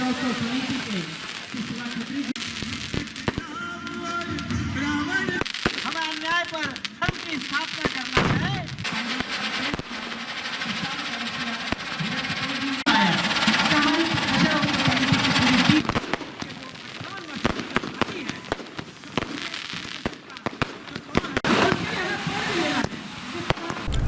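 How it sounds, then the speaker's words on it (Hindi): Symbolic fireworks before burning a 25-foot Ravana effigy at a Dussehra event in Ujjain, a series of sharp bangs and crackling bursts over about twenty seconds amid crowd noise and talking. "25 फीट ऊंचे रावण दहन के पूर्व प्रतीकात्मक आतिशबाजी की गई।"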